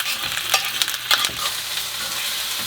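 Food sizzles and crackles in a hot pan, with a few sharper spatters and stirring scrapes over a steady hiss.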